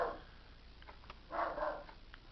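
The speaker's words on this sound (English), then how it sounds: "And there go my dogs." Dogs bark in the background of a room, with a couple of muffled bursts of barking in the middle and brief yips around them. They sound faint and distant.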